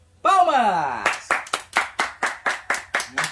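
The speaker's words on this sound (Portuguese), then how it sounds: "Palmas!" A small family group at home claps in a brief burst of separate, rhythmic hand claps that follows a loud vocal exclamation, then about ten distinct claps close by.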